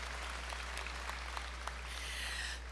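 An audience at a red carpet gala claps in a brief burst of applause, soft and somewhat distant, with a low steady hum running underneath.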